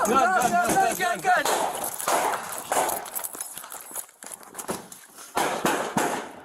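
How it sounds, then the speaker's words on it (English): Gunshots during a police search warrant at a trailer park, a burst of sharp cracks among shouting and commotion, followed by scattered loud bangs and thumps. "Shots fired, shots fired!"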